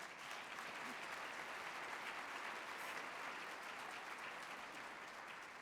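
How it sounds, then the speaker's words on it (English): Steady, dense applause from a dinner audience at a Chicago award banquet, a continuous crowd clapping at low volume throughout without any talking. "You can clap for that."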